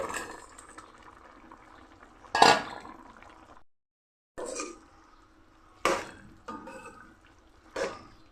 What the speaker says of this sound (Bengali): দিয়ে দিচ্ছি ডালের বড়াগুলি